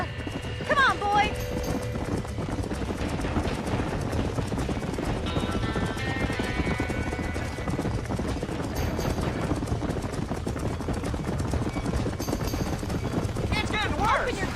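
Horses whinnying and clattering in Red Dead Redemption as they flee a burning barn, hooves clip-clopping steadily amid game music and shouting voices throughout.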